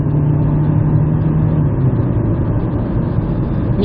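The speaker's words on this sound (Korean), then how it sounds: "RPM이 올라갈 때 엔진음이 운전석으로 들어오는 정도가 K5보다 조금 덜 들어오는 느낌이 듭니다" A Hyundai Avante (CN7) engine drones steadily from inside the cabin, a muffled low hum with a rising rev tone early on, continuous with no talking.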